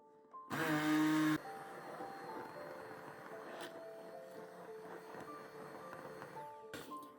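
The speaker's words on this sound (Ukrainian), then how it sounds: "оце все я перебиваю блендером" A kitchen blender purées soft apples for a low-calorie brownie batter. A loud, close burst of whirring lasts about a second, then drops to a steadier, quieter motor hum.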